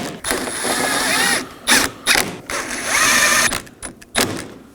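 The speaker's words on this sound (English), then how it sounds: "Now we're going to move down to the mud guard and secure our last 3 7mm bolts." A ratchet wrench snugs down 7mm mud guard bolts on a 2018-2024 Chevrolet Equinox, giving bursts of loud close clicking and rattling separated by short pauses, no voices.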